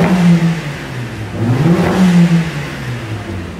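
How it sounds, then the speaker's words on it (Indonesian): A Mercedes-AMG CLA45S exhaust in Sport Plus mode revs close and loud, with two quick rising blips of the engine followed by a falling, rumbling settle back to idle. "Dan ini suara knalpotnya kalau di knalpot yang powerful atau di mode Sport Plus."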